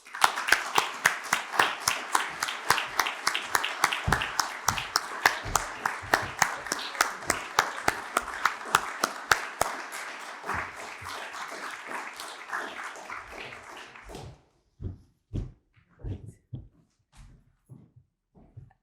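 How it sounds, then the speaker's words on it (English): Audience applause at a student journalism awards ceremony, the Hugh Cudlipp Student Award: dense, steady clapping from a crowd that thins into a few scattered claps before stopping. "please give a warm round of applause and congratulations to our winner of the Hugh Cudlipp Student Award, Peter Snip-Vangers."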